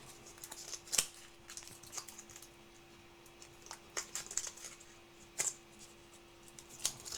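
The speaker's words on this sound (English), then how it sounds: "So let's get this out of the packaging." Apple Watch Ultra 3 being unboxed: faint, close handling of packaging with sharp snips, light crinkles and tearing clicks spaced irregularly over a quiet background, no talking.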